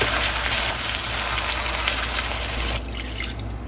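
Water pours steadily into a cooking pot holding meat browned in fat with salt and spices, a loud, close, continuous splashing rush that eases and thins near the end.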